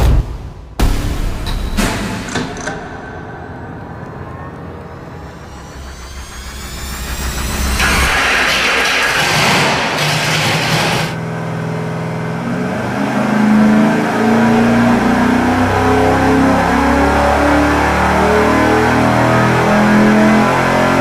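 A Mopar 408 stroker V8 on an engine dyno fires up and runs loud and close for the whole stretch, with a rough start, a swelling roar and sustained high-rpm pulls rising in pitch.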